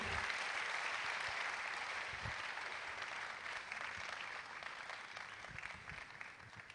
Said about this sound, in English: with a resounding round of applause, please join me as I welcome the moderator for the panel for today